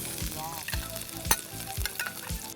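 Ginger and onion sauté in hot oil, a steady close sizzle broken by several sharp spatula scrapes and stirs against the pan.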